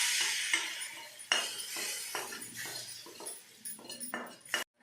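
Spoon clinking against a metal pot while tempering is stirred into sambar, a series of irregular close scraping and clinking strokes.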